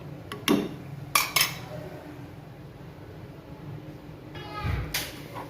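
Tamarind chutney simmering in a pan is stirred with a utensil, giving a few sharp scrapes and clinks against the pan in short bursts near the start and again near the end, over a quiet, steady background.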